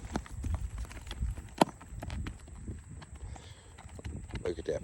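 Missouri Fox Trotter gelding, an 11-year-old 15-hand ranch horse, walking with a steady clip-clop of hooves on hard ground, close by, with light background noise and a sharper knock partway through.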